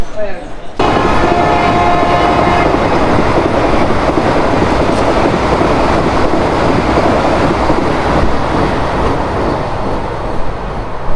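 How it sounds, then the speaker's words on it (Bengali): A passenger train at Haldipara station rumbles loud and close for several seconds after a brief quiet start, a short horn-like tone rising early on, with steady rolling clatter and no talk. "আর এই ট্রেনে করেই আমরা এলাম।"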